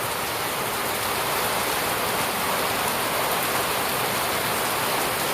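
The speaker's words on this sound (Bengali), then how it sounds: "ছাটা বৃষ্টি একবারে বড় বড় ফোটায় বৃষ্টি আসলে রাতের বৃষ্টি দেখতে পাচ্ছেন" Heavy night rain falls in big drops around mango trees, a loud, continuous wash of noise without pauses or voices.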